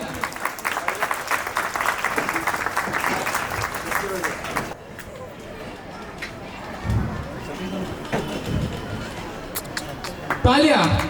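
Loud applause from the audience at a school annual function, dense clapping for the first few seconds, then thinning to scattered claps and crowd noise, with a sharp burst near the end.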